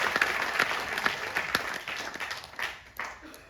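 Audience applause at a company presentation, a crowd clapping loudly with sharp individual claps standing out, then thinning and tapering toward the end.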